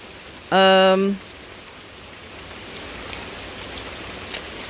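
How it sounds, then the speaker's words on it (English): Soft, steady rain falls over a garden as a faint even hiss, with a brief loud tonal tone near the start and one small tap later on. "this is pretty dope to get some rain right now"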